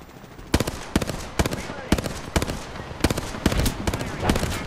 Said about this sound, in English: Firing. Reloading. Firing.